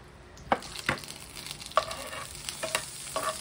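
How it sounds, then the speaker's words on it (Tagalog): Beef and butter sizzling in a hot pan for beef pepper rice, a bright steady hiss broken by several sharp stirring scrapes, close and fairly loud with no voices. "Sisling na agad."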